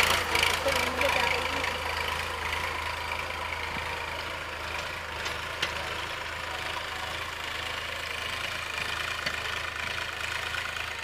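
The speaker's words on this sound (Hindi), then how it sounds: "ट्रैक्टर ले चलोगे क्या अपना आप?" A tractor engine idles steadily on an Indian farm, a continuous low rumble with a slight knocking beat throughout and no clear speech over it.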